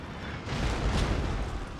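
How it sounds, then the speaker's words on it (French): Cannon artillery fire in Total War: Shogun 2, a deep muffled boom swelling midway and rumbling out over under two seconds, alone without voices. "les canons de début de partie font pas trop mal"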